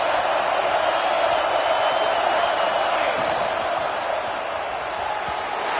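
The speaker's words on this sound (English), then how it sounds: "Third down play in the red zone, and this crowd is at fever pitch." A college football stadium crowd at Washington roars in a loud, unbroken wall of cheering during a third-down play in the red zone.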